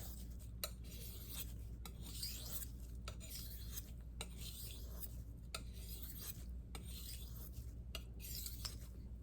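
Steel knife blade drawn across a hard Arkansas sharpening stone at a low angle, repeated soft rasping strokes in a steady rhythm, close and quiet, with no voices.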